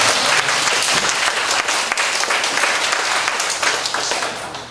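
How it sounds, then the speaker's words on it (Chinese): Sustained audience applause fills a lecture hall at a class session, dense and steady clapping from many hands throughout with no talk over it. "我们应该给他拍手了。"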